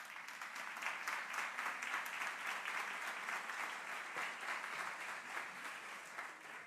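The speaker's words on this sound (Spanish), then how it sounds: "Sisplau, rebem amb un aplaudiment la Marta Lacambra Puig." A full lecture hall gives a warm, sustained round of applause to welcome a speaker at a talk on diet and cancer, with even, steady clapping from a distance and some faint voices underneath.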